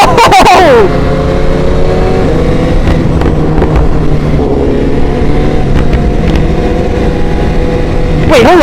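Sport bikes such as a GSX-R, S1000RR, CBR and RSV4 on a twisty road, with a loud close engine roaring throughout and shifting pitch as it revs, and another bike sweeping past near the start and at the end.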